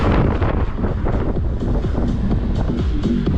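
Wind blows hard and steadily across the microphone on a cycling route in Crimea in April, a loud continuous roar with low rumbling buffeting that covers the whole moment.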